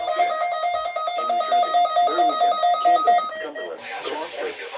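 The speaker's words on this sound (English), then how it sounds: "The warning alarm tone will be activated for hazardous weather watches and warnings for the following." A steady weather radio warning alarm tone for hazardous weather watches and warnings holds loud and constant for about three seconds, then cuts off and a broadcast voice begins talking.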